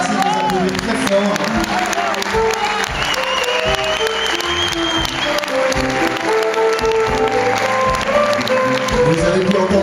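Sustained applause from a concert audience after a choir performance, dense steady clapping filling the whole stretch with some crowd murmur and a voice speaking over it.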